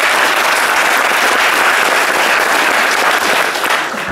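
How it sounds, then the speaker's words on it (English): Loud, sustained applause from a conference audience welcoming a speaker onto the stage, a dense and steady roar of many hands clapping that only begins to ease off at the very end. "Let's get a big round of applause from Michael Jong, please."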